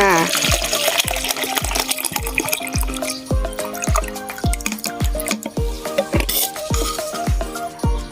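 Clean water is poured for a homemade plant pest spray, a close splashing and gurgling stream with a fast, regular run of drips and trickles throughout, while someone talks over it.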